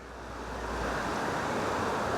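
Sea water floods in and rushes through a channel on the Inland Sea at Anglesey near Holyhead, a broad, steady hiss and roar that swells slightly, with wind against the microphone.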